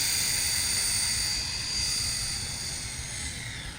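The electric motor of an Arrma Typhon 6S RC car running on a 3S battery, a sustained high whine with a broad droning roar, steady and close.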